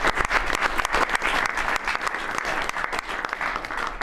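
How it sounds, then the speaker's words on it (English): Members of the press break into applause at a presidential Cabinet meeting, a steady burst of many hands clapping close by, sustained and fairly loud throughout with no talk over it. "The press actually broke out in applause."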